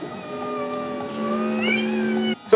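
A cat meows in a long, drawn-out plaintive call in the Star Trek episode Catspaw, a single sustained cry close and clear, cut off abruptly at the end.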